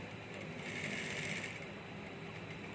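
A sewing machine stitches the second side seam of a child's shorts (nikkar), giving a steady, continuous mechanical whir with a fine rapid ticking texture, close and moderately quiet, with no talking.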